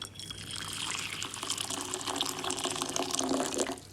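A steady stream of water pours into a bowl, a continuous close splashing that grows slightly fuller as it fills, with no voices.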